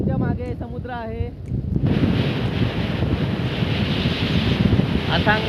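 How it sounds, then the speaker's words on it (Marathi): Steady wind and surf roar on the sea coast at Harihareshwar, loud and continuous, with wind buffeting the microphone; a voice talks briefly at the start and again faintly near the end. "बघू शकता आमच्या मागे समुद्र आहे."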